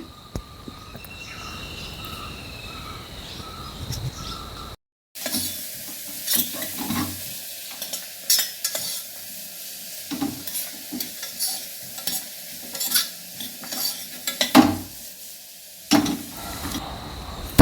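Sliced onion sautéing with rock salt in a pan on the stove, stirred with a spatula through steady sizzling, with intermittent scraping strokes and a brief pause partway through; no talking.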